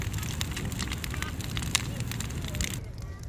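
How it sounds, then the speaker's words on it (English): A large outdoor bonfire at a holiday home with an ocean view crackles and pops steadily with a low rushing roar, close and continuous throughout. "Now this is a good bonfire."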